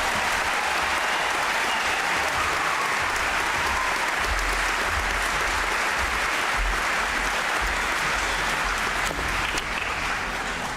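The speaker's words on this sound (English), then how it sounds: "So one last round of applause for this great class." A Milton High School commencement audience gives the graduating class a final round of applause, with loud, sustained clapping and crowd noise filling over ten seconds without letting up.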